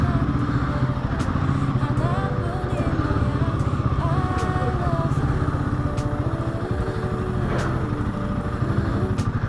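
A motorcycle engine idles loudly and close, with a steady rapid thumping rumble throughout and some faint voices under it.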